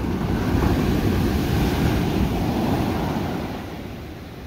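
Ocean waves crashing on the rugged California coast near Davenport, a loud continuous roar of surf with wind buffeting the microphone, slowly easing toward the end.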